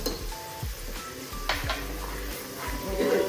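Oil sizzles steadily in a pan with garlic, asafoetida and turmeric while a spoon stirs and scrapes against metal, with several clinks close by.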